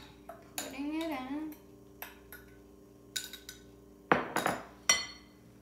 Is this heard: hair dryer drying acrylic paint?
no